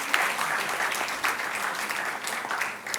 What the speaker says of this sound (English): may we have a huge round of applause for this thought-provoking and insightful keynote address.